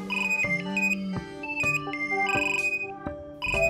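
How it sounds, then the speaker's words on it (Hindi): Telephone ringing in a home, a bright electronic ringtone melody of quick repeating tonal notes, clear and close, playing alone without talk. "फोन ही बज रहा है"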